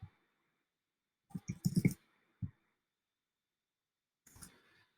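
Computer mouse clicks on a quiet desk: a few short sharp clicks in two small bursts, then one more burst near the end, close and isolated against silence.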